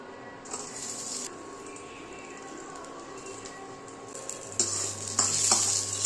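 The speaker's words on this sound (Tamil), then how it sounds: "ஒரு கடாயில் கொஞ்சமாக எண்ணெய் ஊற்றி கடுகு, ஒரு கொத்து கருவேப்பிலை, ஒரு பச்சை மிளகாய் போட்டு ஃப்ரை பண்ணிக்கலாம்" Mustard seeds, curry leaves and a green chili fry in a little oil in a kadai, giving a steady close sizzle with scattered pops and spatters that grow louder near the end.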